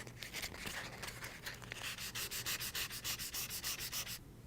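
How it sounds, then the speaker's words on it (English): Close, steady rhythmic rasp of 400 grit sandpaper lightly scuffing the surface of a Hartzell composite propeller, strokes quickening into an even series before stopping abruptly. "this is 400 grit sandpaper, and I'm just going to use this just to lightly scuff the surface I intend to paint"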